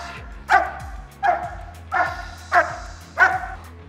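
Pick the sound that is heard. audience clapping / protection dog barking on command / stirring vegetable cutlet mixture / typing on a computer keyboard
protection dog barking on command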